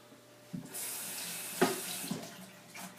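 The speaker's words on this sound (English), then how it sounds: "Give it a good rinse." Spiralizer base rinsed under a running kitchen tap, a steady close hiss of water with splashy changes as the part moves through the stream.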